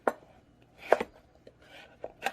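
Several irregular knife chops through yellow squash against a cutting board, close and crisp, with brief pauses between cuts.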